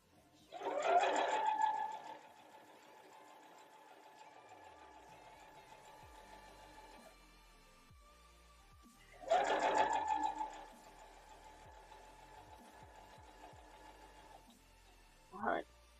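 A sewing machine stitches flange binding on a Starfire quilt in two long runs of steady, whirring motor hum with a tonal whine, starting with louder bursts, separated by a quieter pause with faint low clicks.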